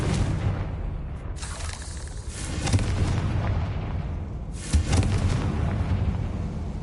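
Confringo spell blasts in the Hogwarts Legacy video game: a dense, loud rumbling barrage with booming bursts, the strongest near the start, the middle and the end, with no talk over it.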